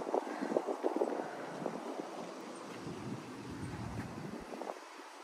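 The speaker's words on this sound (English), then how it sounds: "It's so windy." Gusty wind in the Florida Keys buffets the microphone in a continuous low rumble, swelling and easing throughout with no other clear sounds.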